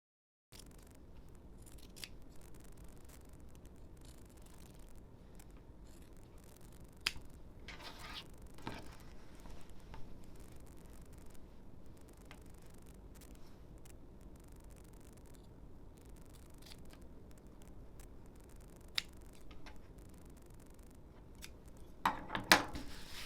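Scissors trim a fabric seam allowance down to a quarter inch on a New Look 6035 skirt. Soft, close snips run steadily throughout and grow a little louder and busier near the end, with no voices.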